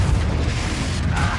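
A Confringo blasting spell explodes in Hogwarts Legacy, a loud, sustained broadband boom with heavy low rumble that fills the whole moment.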